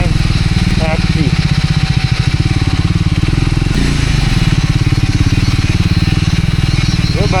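A motorbike ridden off-road up a rocky dirt trail toward Jamacho Gumba on Nagarjun, its engine drumming loud and steady close by throughout, with a rider talking over it now and then.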